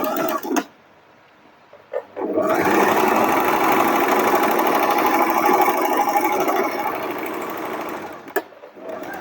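A sewing machine runs a French seam, its fast, steady mechanical whir starting after a brief pause and holding loud and close for about six seconds before stopping, with small handling clicks around it.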